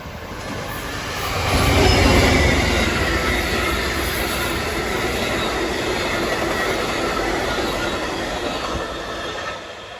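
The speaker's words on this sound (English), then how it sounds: "Amtrak 90 comes northbound through Spotsylvania with a classic Genesis leading the way" Amtrak passenger train northbound through Spotsylvania on the CSX RF&P line, led by a GE Genesis locomotive, rolling past close by with a steady loud roar, rail clatter and faint wheel squeal, swelling early then holding throughout.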